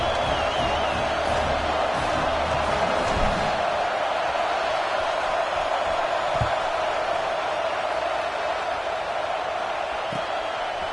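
A football stadium crowd murmurs in a dense, continuous wash of distant voices before kickoff, steady and subdued with occasional thumps and faint shouts.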